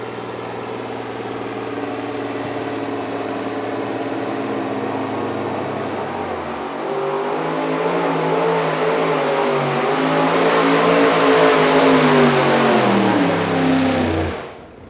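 A super modified 2wd pulling truck engine revs hard at a truck pull in Goshen, Indiana, climbing in pitch and roaring steadily for over ten seconds before cutting off abruptly at the end.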